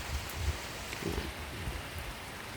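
Rain falls outdoors among trees in a steady soft patter, fairly faint and even, with a few slightly louder drops and no voices.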